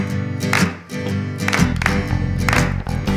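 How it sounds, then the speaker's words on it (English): Hands clap along to a children's clamshell clap song, the claps landing as bright, spaced hits over loud, steady music with sung melody and a deep bass line. "It's the clamshell clap."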